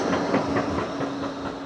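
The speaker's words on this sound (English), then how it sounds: "there's a normal tram. That's going to Little Bispoon." Tram rolling past on the Blackpool promenade, a steady rail rumble with faint rhythmic clicks and hiss, moderately close and continuous with no talk.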